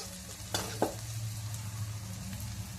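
Misal masala and turmeric stirred into a frying pan of hot oil for a Marathi vatana misal pav, with a steady sizzle under two sharp spoon scrapes against the pan.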